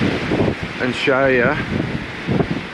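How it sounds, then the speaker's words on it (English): Strong wind at Lake Jindabyne, beside a caravan park, buffets the microphone as a steady rushing roar under a man's close, clear voice. "how strong the wind is."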